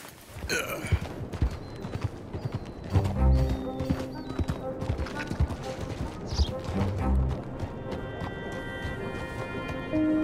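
Horse hooves clip-clop in a steady walking rhythm in Red Dead Redemption 2, with an occasional whinny and faint game-style ambience in the background.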